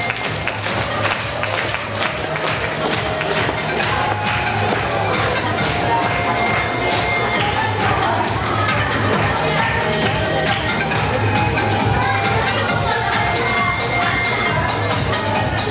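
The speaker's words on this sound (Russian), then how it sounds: "Встречаю бурными аплодисментами" Applause and cheering from an audience at a primary school farewell ceremony for a 4th-grade class, a steady dense clapping wash with crowd noise and children's voices throughout, loud and continuous.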